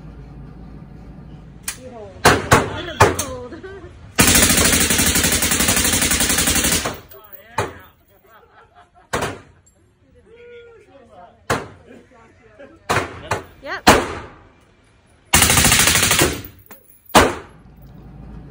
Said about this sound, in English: post up a little video so that way you guys can actually see me shooting it and kind of what that looks like